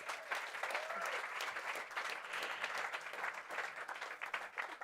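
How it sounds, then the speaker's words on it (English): A large live audience at a freedom forum panel breaks into loud, sustained applause, dense clapping filling the room steadily for several seconds without pause. "give them a round of applause"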